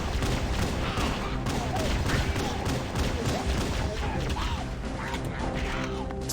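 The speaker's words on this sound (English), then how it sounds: "It's kind of ridiculous how powerful the pistol is." Pistol fire in the video game Halo: Combat Evolved, dense and rapid shots crashing together over game noise, loud and continuous, with a voice faintly beneath.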